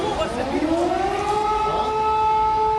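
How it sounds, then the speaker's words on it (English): Civil defense sirens wail across Donetsk in eastern Ukraine, a loud sustained tone rising slowly in pitch, with overlapping siren layers blaring steadily throughout. "Sirens blaring in Donetsk on Friday"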